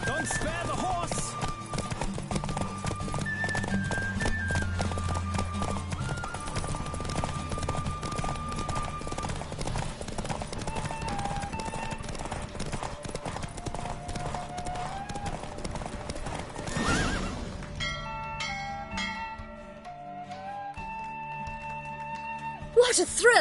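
A galloping horse drums steadily through a race in the video game The Witcher, its rapid clip-clop running under game music and voices before the scene shifts near the end.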